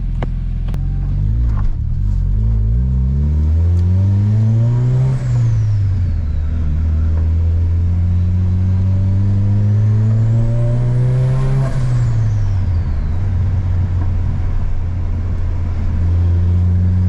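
Car engine revving at very light throttle with a prominent turbo-style whistle that rises and falls twice, loud and close with a steady rumbling idle underneath and no talk.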